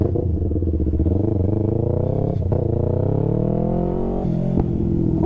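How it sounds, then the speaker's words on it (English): A motorcycle engine revs up and drops through a rev-matched downshift, rising in pitch then falling, with a sharp blip of throttle near the end, loud and close. "how you can rev match and get on with your day on downshifting on your motorcycle."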